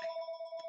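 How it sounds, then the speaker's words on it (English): A telephone rings steadily and fairly quietly for the whole short stretch, its tone ringing on without a break. "I apologize for the phone ringing off the hook."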